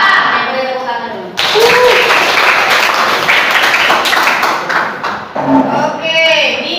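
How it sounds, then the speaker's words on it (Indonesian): Students clapping together in a classroom at the start of a chemistry lesson, a loud, dense burst of applause lasting several seconds between stretches of quieter room sound. "Boleh tepuk tangan dulu."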